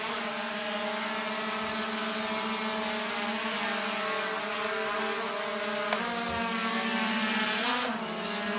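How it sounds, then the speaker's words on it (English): A Holy Stone HS320 brushless bubble drone hovering indoors gives off a steady, close, high-pitched whirring whine that dips briefly in pitch twice near the end as it adjusts. No voices are heard. "brushless drone."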